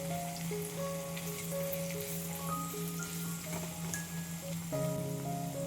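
Onion gently frying in a pan for an aloo matar pulao, a soft steady sizzle with a crackling hiss under quiet background music with sustained tones.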